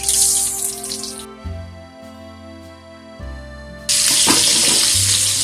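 Seafood sears in a hot pan for an Olive Garden–style seafood alfredo, a loud, steady sizzle that drops to quieter crackling midway and then surges back louder as pieces are flipped.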